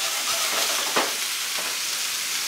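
Chicken for fajitas sears over very high heat in a pan, a loud, dense, continuous sizzle with one brief scraping stir partway through.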